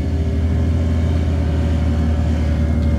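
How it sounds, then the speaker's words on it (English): ATVs riding up, giving a steady, loud, continuous engine rumble with a low droning hum that holds close by throughout, with no talk over it. "here comes some of the ATVers"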